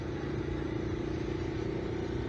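A Benelli Imperiale 400 motorcycle engine thrums steadily while riding, a constant loud drone with a low rhythmic pulse under wind rush, no talking.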